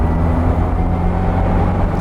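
A turbocharged Mini Cooper cafe racer is driven gently, its engine a loud, steady, close low drone with no revving.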